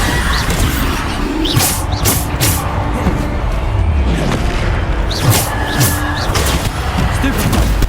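Repeated Bombarda spell explosions from Hogwarts Legacy, with booming blasts and crashes over a dense, loud layer of combat noise, accompanied by the player's voice.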